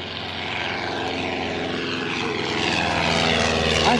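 A Stampe SV4C biplane flies overhead with a steady, droning propeller engine that stays loud throughout and swells slightly as it draws nearer.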